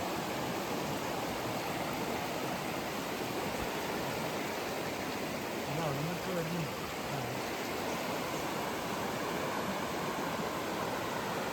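A river near a camping spot outside Melbourne, Australia, flows with a constant, even rush of water that fills the whole stretch, while a faint voice briefly murmurs partway through.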